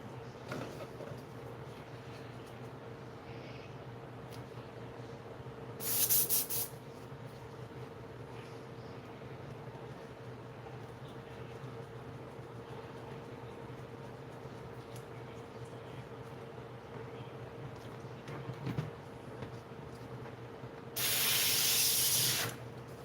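Automotive clear coat is sprayed from a spray gun in two short, loud hissing bursts, one early and one near the end, over a quiet steady background hum.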